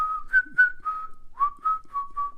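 A whistled tune from Bernard Herrmann film music, a clear solo melody of short sustained notes with small pitch slides, close and alone.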